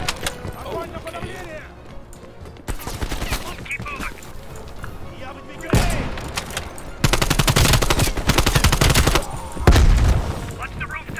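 Bursts of automatic gunfire in Call of Duty Cold War, heavy rapid rattling volleys that grow louder and denser toward the end, mixed with someone talking excitedly over the shots.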